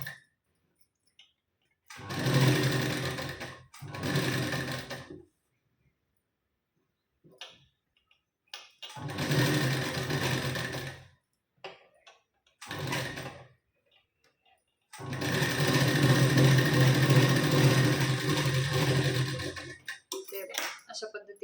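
A sewing machine stitches a sleeve onto a blouse at the shoulder in several separate bursts of rapid mechanical clatter. Short runs alternate with silent pauses, and one longer run comes near the end.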